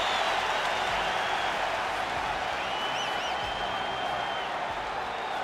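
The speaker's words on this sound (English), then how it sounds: "The last Emperor Fedor Emelianenko ready to make a statement in front of this capacity crowd here tonight" A capacity arena crowd at a UFC 5 video game heavyweight fight roars and applauds in a steady, dense wash of cheering throughout.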